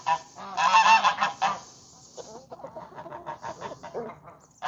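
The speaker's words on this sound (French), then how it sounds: "Donc désolé pour les bruits des oies." Farmyard geese honking loudly in a dense burst of overlapping calls, then thinning into scattered, quieter honks and clucks from poultry nearby.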